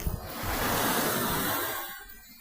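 Broadband wash of surf swelling and fading over a couple of seconds, like waves rolling up the shore of a clear bay at Datça, Muğla, Turkey, steady and fairly close.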